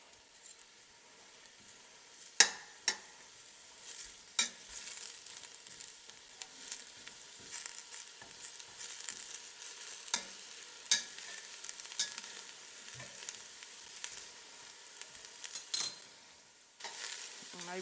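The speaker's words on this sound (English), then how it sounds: "Yep, there's that sizzle." Vegetables sauteing in hot oil in a stock pot, giving a steady close sizzle with scattered crackles and occasional sharp pops and stirring scrapes throughout.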